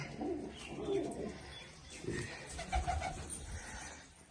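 Pigeons coo softly in low, throaty repeated calls, with faint chirps and background ambience around them.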